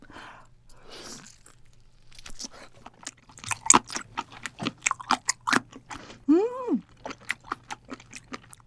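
Giant buttered octopus being chewed close to the mic: wet, squishy bites and crunchy chomps in an uneven rhythm, growing denser and louder, with a brief slurping smack near the end.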